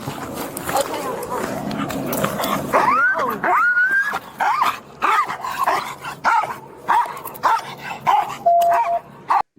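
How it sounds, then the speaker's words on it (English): A dog barks and yips repeatedly at a police scene, loud and close in uneven bursts, while people talk over it. "Boy, that dog sounds hungry, don't he?"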